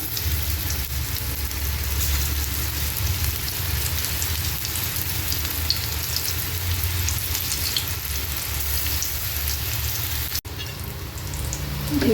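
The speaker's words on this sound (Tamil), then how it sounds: "எண்ணெய் சூடாயிடுச்சு. இப்போ ஒன்று போட்டு எடுத்துக்கலாம்." Peas vada frying in hot oil, a steady close dense sizzle that continues evenly throughout, with a brief quiet dip near the end.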